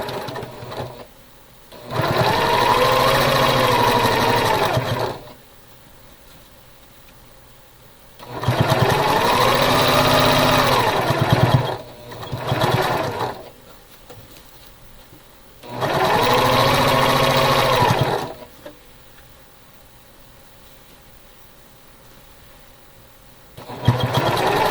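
A sewing machine stitching a star quilt block runs in three steady, loud bursts of about three to four seconds each, separated by quieter pauses with faint handling sounds.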